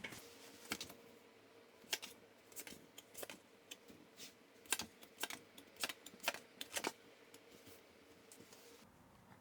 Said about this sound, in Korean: 잠시 심호흡하는 동안 제가 카드 뽑아볼게요